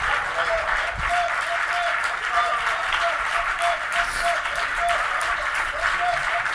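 Church congregation applauding loudly and steadily throughout, a dense wash of clapping from many hands with a voice occasionally audible beneath.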